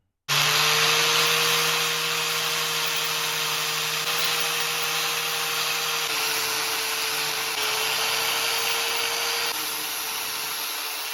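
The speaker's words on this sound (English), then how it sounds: "let's go get the grinder out and see if we can't modify that bracket a little bit to make it fit" An angle grinder cuts down a metal bracket during the restoration of a 1990 Harley-Davidson Sportster, giving one loud, continuous high whine that holds steady for about ten seconds and then stops.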